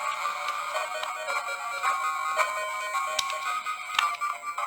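Chiming electronic tones from a repaired Game Boy Color handheld console, a steady bright melodic jingle with repeated sharp accents, fairly loud and alone with no talking.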